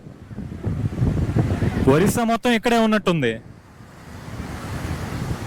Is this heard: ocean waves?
yes